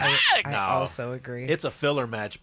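A podcast host lets out a loud, wailing cat-like yowl, a voice imitating an alley cat, with rising and falling pitch at the start and brief talk from other people around it.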